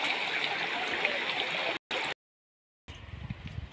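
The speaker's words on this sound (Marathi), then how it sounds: "हे किती छान आहे बघ ना धबधबा" A waterfall at the foot of a hill in the Neral forest gives a steady broadband rush of falling water, close and loud, then cuts out briefly before resuming with a rougher, lower churn.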